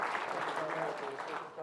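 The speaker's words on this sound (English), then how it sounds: "they should get a round of applause because they're doing an excellent job" A lecture audience at a puzzle and mathematics celebration gives a round of applause, steady clapping at moderate distance with a faint murmur of voices underneath.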